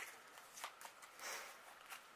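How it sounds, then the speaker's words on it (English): A discard pile of playing cards from Superhot: The Card Game being shuffled by hand, quiet, close, quick papery riffles and flicks in short bursts, no talk. "This is coming into my hand where I need to shuffle my discard pile"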